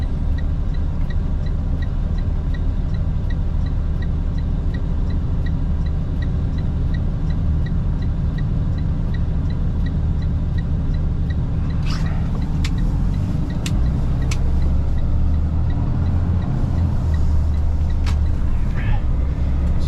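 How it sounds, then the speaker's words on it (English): Steady road traffic roar from inside a truck cab on the Trans-Canada Highway in Alberta in deep winter cold, a continuous low rumble with a few brief higher-pitched squeals or brake hisses midway. "Wow, non-stop traffic."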